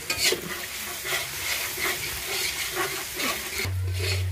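Ginger and spices frying in a pan at an outdoor picnic cookout in Digha, a dense close sizzle under continuous scraping and stirring, with a brief low hum near the end.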